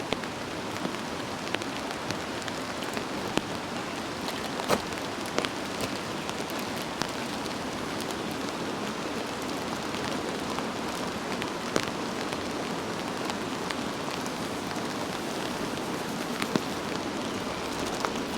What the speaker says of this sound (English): I don't know if the camera is picking up the rain coming off the tarp.